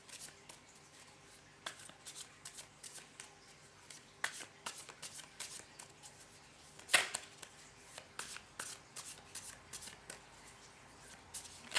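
A tarot card deck is shuffled by hand in quick, irregular riffling bursts with sharp snaps, close and fairly quiet, with no one speaking.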